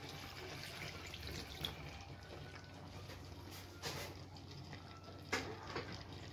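Water is poured into a clay-pot masala for mutton, a faint continuous trickling and splashing with a few small clinks, quiet and close, without speech.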